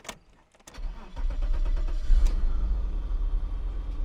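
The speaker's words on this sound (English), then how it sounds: "This is one of them that I'll be using to start the car." A 1990 BMW 535i E34 with a still-cold engine is started with the key: a short cranking burst, then the engine catches and settles into a steady, loud idle close by.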